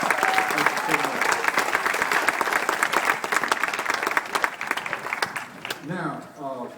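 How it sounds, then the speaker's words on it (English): An audience at a historic theater lighting event in Kosciusko claps in a dense, steady burst of applause that tapers off near the end, with voices mixed in underneath. "I would appreciate a big round of applause"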